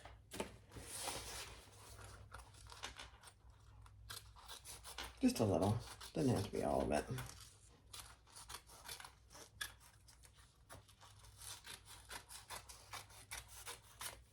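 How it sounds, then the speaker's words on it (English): Scissors snip and trim fabric zipper tape and excess seam material on a sewn crossbody bag, a few close crisp cuts clustered mid-clip, with a person talking quietly over the handling. "Let's trim off the zipper tape, and I'm also going to trim off this top part."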